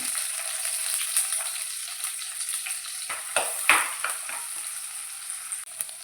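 Onions sizzling and frying in a hot pan, a steady crackling hiss with occasional stirring scrapes, close and fairly quiet with no talking.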